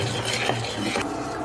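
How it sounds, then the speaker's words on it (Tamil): Tamarind water with turmeric, chili powder and salt being stirred together in a pan, a brief soft scraping and sloshing up close with no voices. "எல்லாம் நல்லா கலக்கி விடுங்க."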